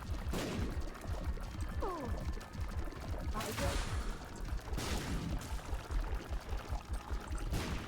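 Mini bombs drop and burst in The Binding of Isaac, a rapid run of muffled thuds and crackling booms repeated through the clip, alongside game sounds.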